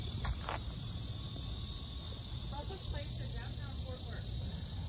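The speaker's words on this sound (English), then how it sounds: "You can hear the cicadas." Faint, steady high-pitched chirring of cicadas in a tree near a library in downtown Fort Worth, a continuous drone with a few brief voices underneath.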